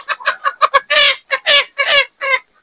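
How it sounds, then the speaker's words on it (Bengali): White layer hens on a poultry farm give a close run of loud, harsh clucks and squawks in short bursts, with several longer calls near the end and no talking. "অসংখ্য মুরগি আছে এখানে, সাদা লেয়ার মুরগি।"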